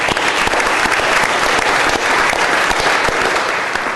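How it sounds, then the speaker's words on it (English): A room full of people at a San Francisco Board of Supervisors meeting claps in sustained, dense applause, steady and fairly loud across the whole stretch. "And so we have a huge round of applause."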